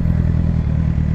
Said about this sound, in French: casse-toi avec ta moto, là, dégage